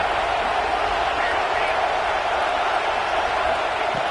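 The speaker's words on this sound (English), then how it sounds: "this crowd is fired up. Listen to this noise here" A football stadium crowd roars as one dense, steady wash of noise, loud and unbroken from start to finish, with no single voice standing out.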